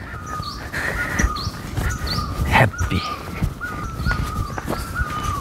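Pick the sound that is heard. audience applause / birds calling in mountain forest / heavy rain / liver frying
birds calling in mountain forest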